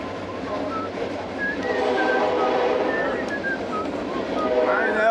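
An L train rolling past, a steady rumble and clatter filling the whole stretch with faint squeals and whistle-like tones on top, while people talk over it.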